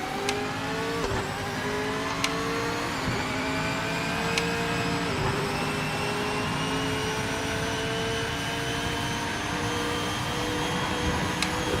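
Engine of a racing car in a racing video game, screaming at high pitch and rising repeatedly through the gears, with sharp shift clicks between, steady and close for the whole stretch.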